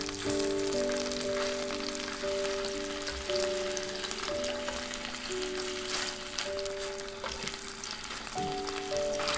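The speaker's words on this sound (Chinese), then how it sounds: "待鸡皮一面煎至金黄， 再翻面。" Chicken thigh pan-frying skin-side up in olive oil over medium heat, a steady soft sizzle and crackle running throughout, with faint sustained background music tones beneath and no talking.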